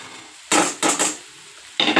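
Bitter gourd being sautéed with a ground peanut-coconut paste in a pan: three short, loud scraping stirs of a spatula against the pan, separated by quiet pauses, with no voices.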